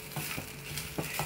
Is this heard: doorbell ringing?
no